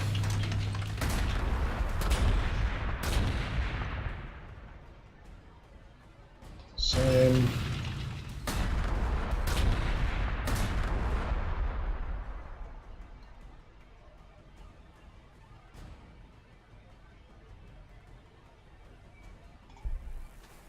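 Artillery fire in the Warhammer 40,000: Gladius strategy game, with several sharp booming blasts and a heavy burst near the middle, fading into quieter rumbling afterward.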